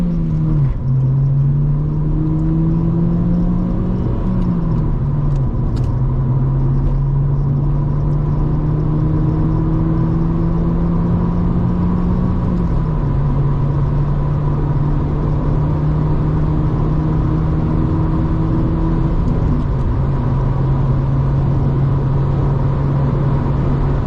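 A Honda Civic EP2 with a short shifter accelerates hard up a national speed limit road, heard from inside the cabin, its engine note climbing steadily through the gears with brief dips at each shift over a constant loud rumble.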